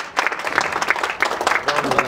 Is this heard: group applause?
yes